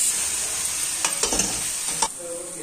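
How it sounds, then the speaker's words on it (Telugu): Grated pumpkin fries in ghee for pumpkin halwa, giving a steady close sizzle with a few scraping stirs of a spoon against the pan, alone without talk. "సో ఇదే నూనెలో మనం తురుముకున్న గుమ్మడికాయని అలా వేసుకొని 10 నిమిషాల పాటు పచ్చి వాసన పోయే వరకు, ఎర్రగా అయ్యే వరకు వేయించుకుంటే టేస్టీగా ఉంటుంది"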